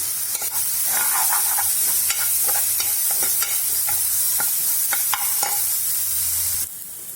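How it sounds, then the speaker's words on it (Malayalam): Chunks of koorkka (Chinese potato) sauté on a low flame in a pan, a steady soft sizzle broken by repeated scraping stirs of a spoon, close up and alone. "ഒരു 5 മിനിറ്റോളം നമുക്ക് ലോ ഫ്ലെയിമിൽ വെച്ച് ഇതിന് സോട്ടാക്കിയെടുക്കാം."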